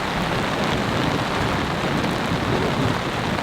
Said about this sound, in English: it sounds like the thunder's a little bit to our south and may move past us